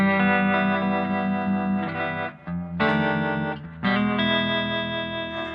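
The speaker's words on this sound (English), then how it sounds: "Now I can also put on the harmonic vibrato." Electric guitar chords played through a Koch "The Greg" signature amp with a wavering harmonic vibrato, sustained and pulsing, with brief dips between strums.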